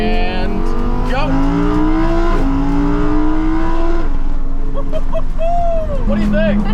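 A Lamborghini on its stock exhaust accelerates hard in sport mode, its loud engine tone climbing through several gears with brief dips at the shifts, and a voice speaks over it.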